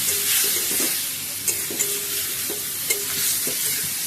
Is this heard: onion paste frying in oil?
yes